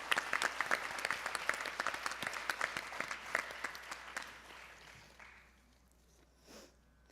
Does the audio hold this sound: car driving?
no